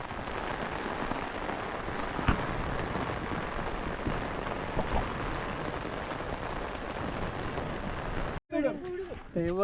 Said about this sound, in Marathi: पाऊस पण मस्त छान पडतोय